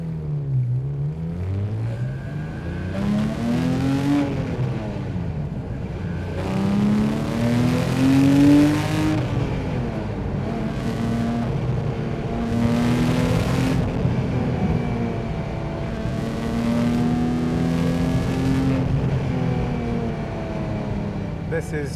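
Porsche 911 997.1 GT3 flat-six with sport mode engaged, revving repeatedly on the road, its pitch rising and falling in several sweeping pulls from inside the cabin while a person talks over it.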